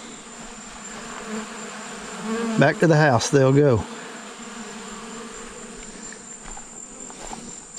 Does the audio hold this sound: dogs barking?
no